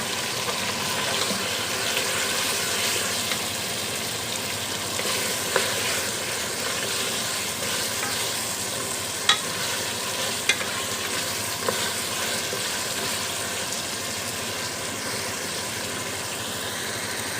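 Taro root frying in a pan with chicken while being stirred, a steady dense sizzle with scattered scraping clicks from the spoon, loud and continuous throughout.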